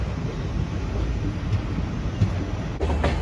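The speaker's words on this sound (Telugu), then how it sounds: "మన ట్రైన్ వచ్చి విజయవాడ అవుట్స్కట్స్లో ఉంది. ఇప్పుడే స్టేషన్లోకి ఎంటర్ అవుతుంది." A passenger train on the Tambaram to Rajahmundry route rolls into Vijayawada station with a steady, heavy low rumble and some wind buffeting, heard from inside the train without pause.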